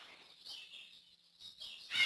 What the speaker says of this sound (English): Man, all the birds are talking. I am so sorry for all the noise.